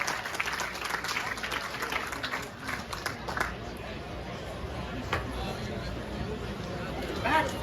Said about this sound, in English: let's give Don a nice round of applause